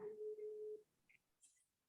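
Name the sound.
phone call disconnected busy tone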